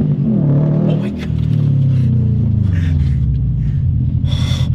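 Subaru car engine revs hard during a launch, a loud close roaring rumble that climbs and holds, with a brief dip and gasps and voices underneath.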